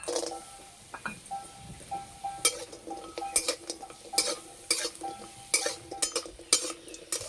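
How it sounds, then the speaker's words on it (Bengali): Lentil dumplings (bori) fry in mustard oil in a village-style kitchen, a soft sizzle punctuated by repeated clattering stirring and scraping bursts in an uneven rhythm, with faint animal bleats in the background. "বড়িগুলো ভেজে নেব।"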